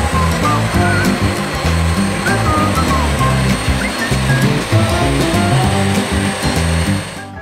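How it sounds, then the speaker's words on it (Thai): A Bissell Vac & Steam cleaner runs in combined vacuum and steam mode, a loud steady motor whine with a continuous airy rush, while someone talks over it. "ทีนี้เราลองเปิดโหมดดูดฝุ่นไปด้วยนะครับพร้อมกับสตรีมไปด้วยครับ"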